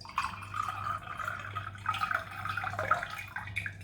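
Juice pours into coloured water in short trickles with light splashing and dripping, close and fairly quiet over a low steady hum.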